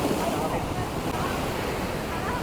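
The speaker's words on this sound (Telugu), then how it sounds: "చుట్టూ సముద్రం బీభత్సమైన అలలు అలలు" Steady, roaring surf of sea waves crashing continuously on rocks at Dhanushkodi beach, loud and close, with wind buffeting throughout and no distinct pauses.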